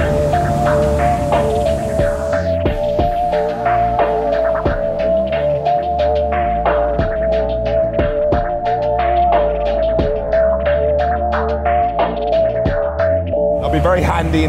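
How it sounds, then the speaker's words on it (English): A 2012 road sweeper sucks up a puddle with a loud, constant droning whine and a throbbing mechanical hum, broken by faint irregular clicks. "Suck up this puddle."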